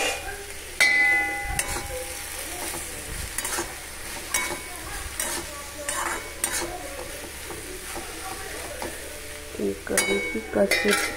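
Mixed vegetables sizzle steadily in a pan, with a spoon stirring and scraping and occasional clinks of utensil against metal, the cooking sounds close and moderately loud.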